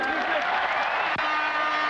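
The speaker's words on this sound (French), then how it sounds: "Très applaudi par le public des Girondins de Bordeaux." Bordeaux Girondins home crowd applauding in a football stadium, a steady broad wash of clapping and crowd noise that stays loud and continuous throughout, with a commentator's voice over it.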